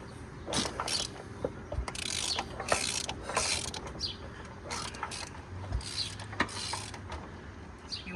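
A seized Craftsman riding mower engine is worked back and forth by hand, producing rhythmic ratcheting clicks and mechanical creaks in repeated strokes, fairly faint and close.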